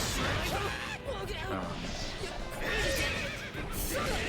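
Horses neigh and whinny loudly amid dense, constant fighting noise and hoofbeats in the PS3 game JoJo's Bizarre Adventure All-Star Battle, where characters fight on horseback. A voice seems to talk over the game sounds.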